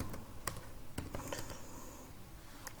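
Computer keyboard keys clicking in a quiet room as code is typed, a handful of faint, irregular taps spread over a few seconds with no voices.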